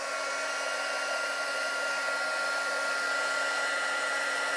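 A heat gun blows steadily to melt white embossing powder on brads, a constant broadband whoosh like a hair dryer held close, loud and unbroken throughout with no talking.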